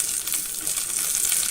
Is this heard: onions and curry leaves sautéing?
yes